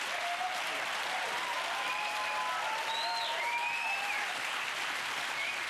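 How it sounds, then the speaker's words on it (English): Studio audience applause at a comedy panel show, a steady, even wash of clapping from a large crowd heard alone throughout. "a very big round of applause for our old person"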